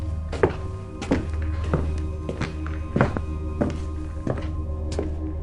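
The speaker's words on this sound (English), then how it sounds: "Footsteps, slow and deliberate, pacing back and forth." Slow, deliberate footsteps pace back and forth across a room at night, each heavy thunking step landing at a steady unhurried rhythm, close and distinct over a low hum.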